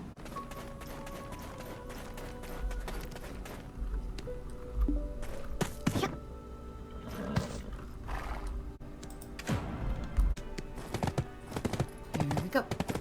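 A horse's hooves clip-clop in the online game Black Desert Online, with repeated hoofbeats, occasional neighs and sharp impacts over steady game music and ambience.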